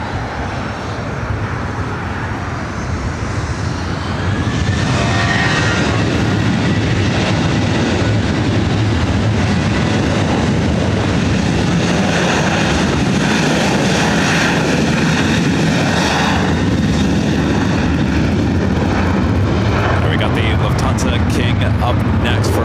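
Jet aircraft engines roaring at LAX on runway 24 right, a loud, sustained thunder that swells after a few seconds and holds steady, close and powerful.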